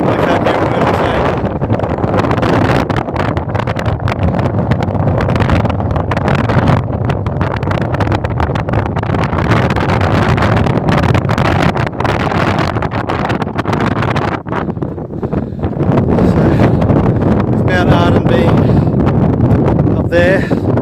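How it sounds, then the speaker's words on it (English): Strong wind roars and buffets the microphone steadily on an exposed hilltop along a South Australian hiking trail, with someone talking intermittently beneath the gusts. "It's a bit windy up here."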